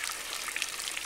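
Water rushes through a Black Magic sluice box, a steady, even hiss with a fine splashy texture, fairly faint and brief, with no voices over it.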